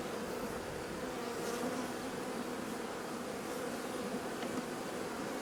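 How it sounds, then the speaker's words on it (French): A honeybee swarm at a beehive drones in a dense, steady buzz that fills the whole stretch, loud and close with no talking, the hum holding even without breaks. "Surtout là, c'est un essaim ça."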